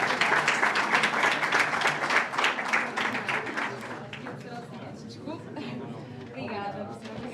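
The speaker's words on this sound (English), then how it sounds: "another round of applause for our speakers" An audience at a CESG 2026 conference gives a round of applause for the speakers, loud and rhythmic at first, then thinning to scattered claps under chatter and talk.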